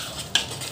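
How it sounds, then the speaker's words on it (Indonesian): A metal utensil scrapes and clinks once against a pot while prawn curry is stirred, a short close knock over soft background hiss, with no voices. "saya akan sebatikan dia lah, aduk-aduk dia"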